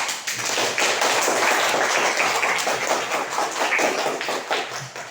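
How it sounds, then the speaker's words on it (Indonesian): Applause from a classroom audience of students after a group presents its poster, a steady dense patter of many hands clapping close by for about five seconds, with no talking over it. "Baik, tepuk tangan."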